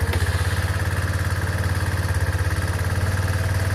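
A Chinese 150cc motor scooter engine idles right up close, with a steady, loud, pulsing putter that stays even throughout and has no other sounds over it.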